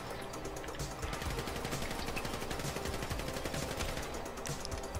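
Rapid bursts of automatic gunfire from a GTA 5 gunfight crackle steadily for five seconds, loud and dense, with no voices over them.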